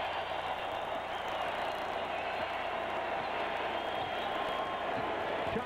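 Basketball arena crowd during a 2001 playoff game between the Bucks and the Magic, a steady, distant roar of spectators with a broad wash of murmuring noise and no distinct peaks.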